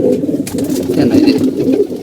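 Pigeons in a loft coo continuously at close range, a low, rolling murmur of overlapping calls with no talking.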